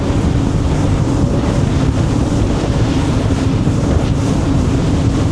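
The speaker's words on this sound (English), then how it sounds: "Definitely more of a south wind at the moment, so wasn't quite expecting this." Strong wind roars over a Scout 355 LXF boat running wide open through the Florida Keys. A loud, constant rush of air blends with hull and water noise, with no one speaking.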